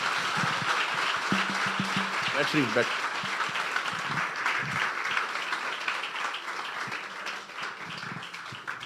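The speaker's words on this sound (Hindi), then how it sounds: "अगर आपने बरकत पाई है तो यीशु के जलाल के लिए तालियां बजाएं।" Church congregation applauding after a sermon at an apostolic church, a continuous wash of clapping from a large crowd lasting throughout, with a preacher's voice and other talk over it.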